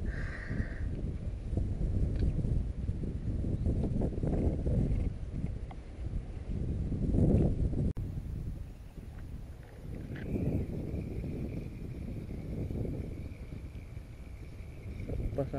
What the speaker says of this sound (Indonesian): Angin memang kuat hari ni.